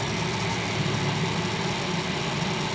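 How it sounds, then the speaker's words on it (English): A Jandy JXI pool gas heater fires up with a steady, close, broadband rumble that holds evenly throughout, with no voices. "You hear a click where the gas valve opens, then a nice little rumble as the heater fires"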